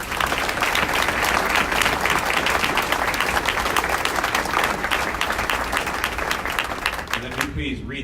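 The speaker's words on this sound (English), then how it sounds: "Please give him a round of applause." Sustained applause from a large audience, dense steady clapping throughout, tapering off near the end as a voice begins speaking.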